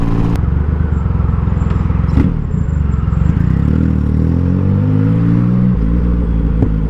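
Triumph Rocket 3 motorcycle riding through traffic, a deep throbbing engine heard close and loud, its pulsing note rising and falling as the throttle changes, with faint wind rush.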